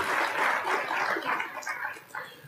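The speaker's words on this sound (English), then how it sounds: "Let's give them a round of applause." An audience at an architecture awards symposium in Chicago applauds. Dense, steady clapping from many hands fills the short clip and fades slightly at the end.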